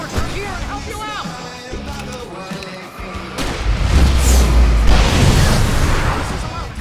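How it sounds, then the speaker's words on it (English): Fireworks set off in the game Alan Wake Remastered, heavy booming bursts that swell loudly in the second half after a stretch of shouting voices and game noise. "I can set off fireworks from here and help you out!"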